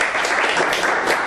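A lecture-hall audience of exam students bursts into loud, dense clapping that holds steady through the short stretch.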